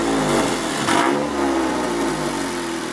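A Dodge Challenger SXT fitted with a Valvetronic exhaust revs loudly and close by, its engine note swelling in a couple of quick blips over a steady rumble.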